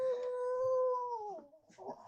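A puppy whimpers in a long, drawn-out tonal whine that slowly falls in pitch, followed by a few softer broken whimpers, close and alone.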